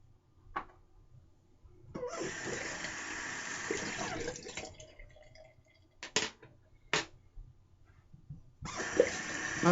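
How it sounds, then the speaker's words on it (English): Water splashed by hand onto a face at a sink, in several wet bursts: one long run of splashing, then short separate splashes and a final burst, with quiet pauses between them. "I've been kind of splashing water on my face."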